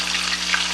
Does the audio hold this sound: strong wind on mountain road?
no